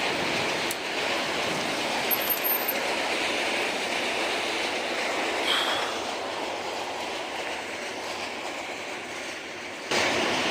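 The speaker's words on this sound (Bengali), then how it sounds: "ওই যে একটা ট্রেন যাচ্ছে" A train passes along a rail line in hilly countryside, a steady broad rumble with wheel clatter that holds for the whole stretch, heard from nearby.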